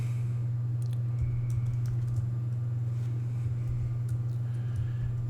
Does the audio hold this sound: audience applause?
no